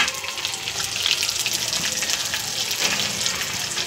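Garlic and green chillies frying together in a pan, giving a steady, close, loud hissing sizzle with scattered crackles throughout.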